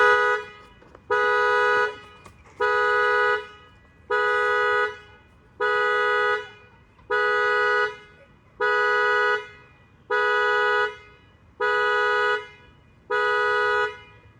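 A car alarm honks in a steady, evenly spaced pattern of about ten loud, sustained toots, each roughly a second long with short gaps between them, sounding alone without talk.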